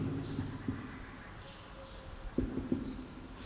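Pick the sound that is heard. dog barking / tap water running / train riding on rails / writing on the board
writing on the board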